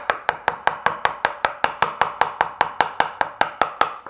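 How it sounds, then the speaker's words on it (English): Mallet tapping a wood chisel to cut a rabbet in wood, a steady run of about twenty sharp, evenly spaced knocks, close and clear with no talk. "grab a mallet and just tap it"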